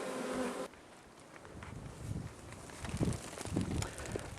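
Honey bees buzzing around a hive near a queenless colony with many worker bees: a dense, faint insect hum with scattered louder passes and soft handling thumps, after a brief louder burst at the very start.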